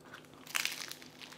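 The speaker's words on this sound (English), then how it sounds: "You hear that crunch?" Someone bites into a crispy low-carb keto wrap burrito, giving a brief cluster of close, dry crunches and crackles that fade over about a second.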